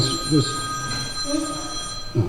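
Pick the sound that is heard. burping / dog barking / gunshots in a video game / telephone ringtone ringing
telephone ringtone ringing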